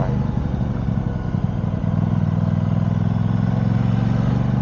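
An Aprilia RS660 sport motorcycle idles and pulls away for a ride on a chilly day, a loud close steady engine drone with a low throbbing rumble and no talking.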